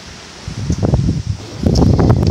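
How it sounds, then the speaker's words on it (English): Strong wind blowing outdoors in a yard, gusty buffeting rumble and rustle that swells and eases over a couple of seconds, close to the microphone with no talking. "it's super windy out here"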